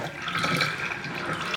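Running water rinses through an AFE Pro Dry S air filter during cleaning, a close, steady splashing gush that continues unbroken before cutting off abruptly.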